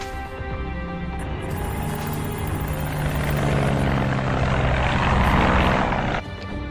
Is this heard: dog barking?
no